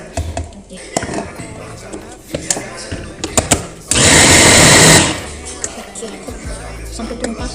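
Blender churning pisang ijo syrup mixture with water in one loud, steady burst of about a second, surrounded by clattering kitchen handling and someone talking.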